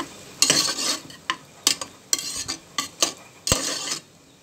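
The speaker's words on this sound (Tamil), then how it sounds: "கடுகு தாளிச்சிட்டு ஒரு வெங்காயம், ஒரு தக்காளி, கருவேப்பிலை ஒரு கொத்து, கத்திரிக்காய் இதெல்லாம் போட்டு வணக்கிட்டு" Eggplant, onion, tomato and curry leaves are sautéed in a pan after tempering mustard seeds, with a spoon scraping and clinking in irregular bursts over a faint sizzle.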